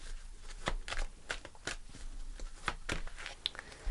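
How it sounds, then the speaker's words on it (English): Angel answer cards are shuffled by hand in a quick series of soft riffling flicks and slaps, close and fairly quiet, with no voices. "I'm going to pull the angel answer cards here for March 2023."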